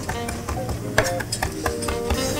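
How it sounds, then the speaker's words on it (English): A knife chops fresh herbs finely on a board in a restaurant kitchen, giving quick, uneven close taps against a steady background hum. "Now we continue chopping until it gets very fine."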